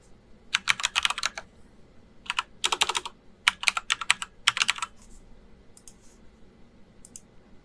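Quick bursts of keystrokes on a computer keyboard as an address is entered during a pfSense install on VMware ESXi, with several close, crisp clusters of clicks separated by short pauses, then fading to a few sparse taps.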